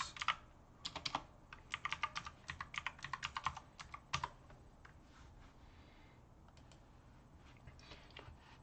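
An IP address is typed on a computer keyboard in quick bursts of close, crisp key clicks, thinning out to a few scattered taps by the end.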